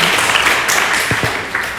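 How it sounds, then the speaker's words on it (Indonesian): Steady applause from an audience at an evening book launch event, continuous and moderately loud, with a couple of sharper claps near the end. "Kasih aplaus untuk kedua pembicara kita."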